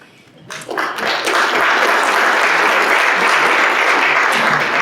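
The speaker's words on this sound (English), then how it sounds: "That deserves applause." Audience applause at a Rotary club meeting, starting after a quiet moment and quickly swelling into dense, steady clapping that fills the room and continues evenly to the end.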